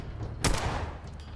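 A single sharp gunshot cracks out in Fallout 4 while playing in survival mode, followed by a short fading tail over a low background hum.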